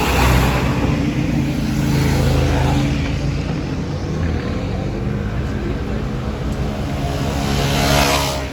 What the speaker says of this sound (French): 488 Pista rouge qui vient de passer.